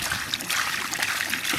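Water pours out of a wheelbarrow onto concrete mix in one continuous splashing gush, close and fairly loud for the whole stretch, with no talking over it.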